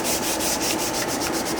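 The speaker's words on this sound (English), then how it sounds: "There's all that sanding." A black-stained guitar body at a custom bass shop is sanded by hand with steady, rhythmic rasping strokes, close and continuous with no voices.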